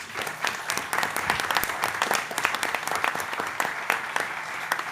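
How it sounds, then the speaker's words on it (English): Applause from the audience at a city council meeting in Jackson, Tennessee, a sustained round of many hands clapping at moderate distance, fairly even in loudness with no talk over it. "we want to thank them and give them a round of applause, please"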